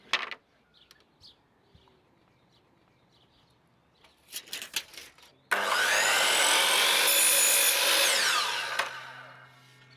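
A saw cuts a mitre through scotia moulding, a steady loud rasping run of strokes lasting several seconds after a few quiet knocks and handling sounds.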